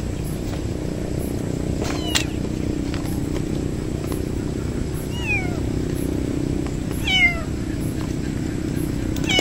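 An orange cat on grass meows a few times at a distance, thin rising cries over steady outdoor noise and a low rumbling background.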